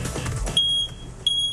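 Piercing high smoke alarm beeps twice, sharp and loud, after a burst of rumbling noise, during a fire test.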